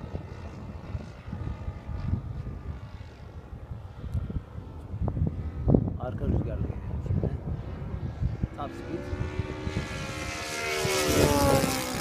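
A Hangar 9 P-47 model airplane powered by a Saito FG-40 engine flies at low throttle, its propeller drone rising and falling at a distance under wind noise, growing to a louder buzzing pass near the end while people talk.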